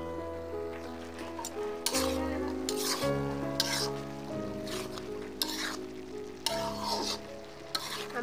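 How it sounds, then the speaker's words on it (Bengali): Jackfruit seeds, beans, cabbage and potatoes being stirred in a frying pan: steady close sizzle with repeated scraping and clinking strokes of a utensil against the pan, alone without voices. "আমরা আবার নাড়া দিয়ে দিচ্ছি।"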